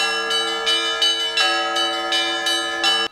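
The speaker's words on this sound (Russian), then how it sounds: "Шествие сопровождается непрерывным звоном колоколов." Orthodox church bells ring continuously in overlapping strikes during an Easter procession around the church, bright and resonant, with rhythmic swells every half second or so and no voices.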